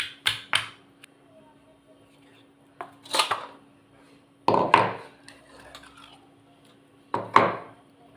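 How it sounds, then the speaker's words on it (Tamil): Tomato and onion lightly crushed for an onion kulambu, giving a handful of close, irregular knocks and crunchy clatters in short clusters separated by quiet gaps. "சும்மா லைட்டாக தக்காளி வெங்காயத்தை லைட்டாக ஒன்றும் பாதியமாக நசுக்கினா போதும்"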